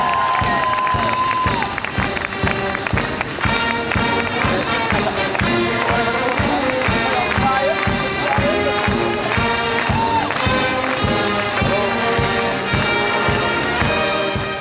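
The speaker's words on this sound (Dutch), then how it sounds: "mag ik een heel groot applaus voor Diane Valkenburg" Crowd cheering and clapping for speed skater Diane Valkenburg, loud and continuous, with shouts and a dense wash of applause under music-like tones throughout.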